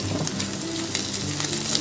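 Water lily stems hitting a hot pan with fried garlic, giving a steady close sizzle and bubbling hiss with faint clinks, no voices.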